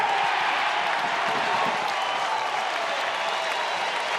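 A college baseball crowd at Goff Stadium applauds and cheers steadily, a dense, even wash of clapping from a distance with no clear break.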